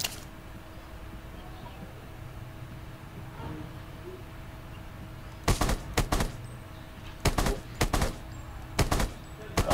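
Rapid automatic gunfire from the video game Rules of Survival comes in several loud bursts during the second half, after a quiet stretch with faint background hum.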